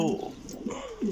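Racing homing pigeons on a rooftop give a few low, throaty coos close by, in short bursts, with faint background noise.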